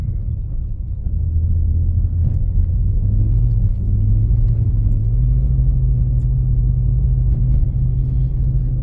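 A BMW E46 drifts on a snowy back road through a blind corner, its engine a loud, steady, close rumble with the note climbing gradually under throttle, no voices.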